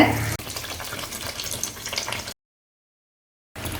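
Sweet jaggery appam frying in hot oil, a steady close hiss and bubbling crackle that runs continuously, cuts out to silence for about a second, then resumes.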